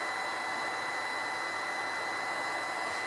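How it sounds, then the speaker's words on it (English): Heat gun blowing steadily while drying gesso on a mixed-media craft piece, a constant loud airy roar with a faint whine running unbroken throughout, no talking. "you can dry your gesso with the heat gun"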